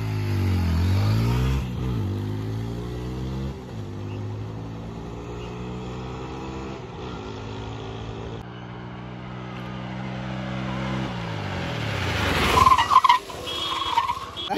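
Drag race launch between an Ola S1 Pro electric scooter and an Apache RTR 160 motorcycle: a loud, continuous engine roar rising and falling in pitch over repeated accelerations, with a sharp burst near the end; no talk.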